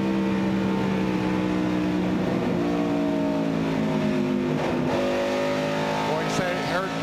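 NASCAR stock car engine heard onboard during the 1998 Texas 500, droning steadily with rising and falling harmonic pitch as the driver lifts briefly and then gets back on the throttle; loud and continuous, with a commentator talking over it.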